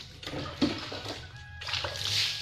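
Water splashes and sloshes as a face is rinsed after a scrub, with close wet splatters, brief bursts and a rising gush of running water.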